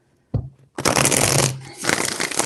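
Tarot cards are shuffled in two quick riffling bursts, crisp and close, after a short tap as the deck is handled.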